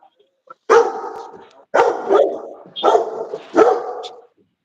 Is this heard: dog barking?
yes